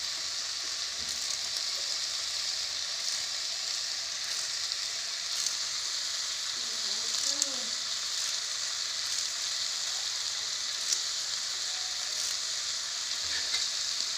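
Curry leaves dropped into hot oil in a pan, sizzling steadily and evenly for the whole stretch as a close, moderately loud hiss with soft stirring; no voices.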